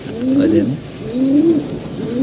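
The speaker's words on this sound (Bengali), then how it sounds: "ডাক দিতেছে কবুতর আসছে" Pigeons coo in low, rolling calls, two or three close, clear phrases repeating over faint background noise.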